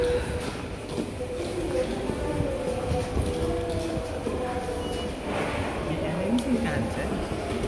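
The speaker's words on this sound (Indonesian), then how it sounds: "Nama perusahaannya JR Shinkansen ini kereta cepat." A steady, loud rumble of a JR Shinkansen high-speed train, heard around Ueno Station in Japan, carries on throughout under people talking.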